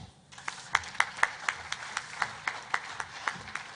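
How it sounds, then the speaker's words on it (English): A small audience claps during a Ghana-German construction day event, giving a sparse, fairly quiet round of distinct claps at a slightly uneven rhythm for a few seconds. "Let's give them a clap."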